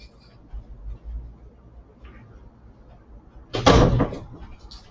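Door closing indoors, a single short thud around the four-second mark that stands out loudly against quiet room noise and faint rustling.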